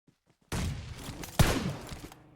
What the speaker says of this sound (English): that grenade did go off